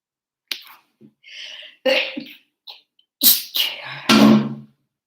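A person with hay fever makes a few short breathy bursts and gasps that build up to one sharp, loud sneeze near the end, close to the listener with no speech.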